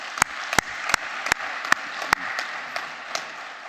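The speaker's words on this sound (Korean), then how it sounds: "하나님 앞에 영광의 박수 올려드립니다." A church congregation claps in worship in steady, evenly spaced sharp claps, fairly faint, with a softer wash of clapping behind them.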